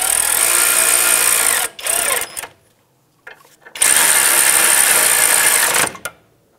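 A power tool runs down 18 mm caliper bracket bolts on a 2007-2017 Jeep Compass during a front brake job, giving a loud, steady whir in two longer runs and a few brief bursts, close to the mic with no talk.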